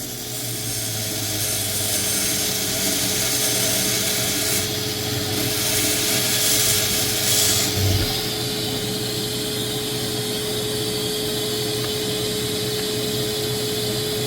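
A rotary tool spinning at about 4,000 to 6,000 RPM polishes fire agate under light pressure, giving a continuous high whine with steady grinding friction and a brief bump in the middle.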